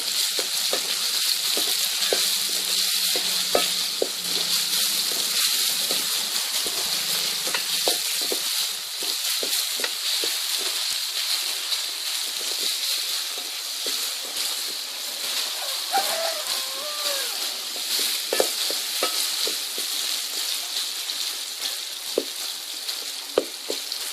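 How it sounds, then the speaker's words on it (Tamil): Salted raw plantain pieces sauté in a pan, a continuous hiss and crackle of frying with repeated scraping stirs and scattered light clicks of the spatula. "அதோட தேவையான அளவு உப்பு சேர்த்து நல்லா வதக்கிக்கலாம்"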